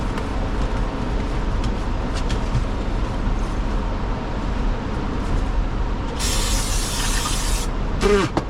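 Carburetor cleaner sprays in a hissing burst onto a Briggs and Stratton engine on a Craftsman YTS3000 mower, starting after a stretch of steady low rumble and lasting about a second or two, close and fairly loud.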